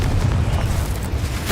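A Confringo fire spell from Hogwarts Legacy erupts in one dense, loud rumbling boom that holds steady for its whole brief length.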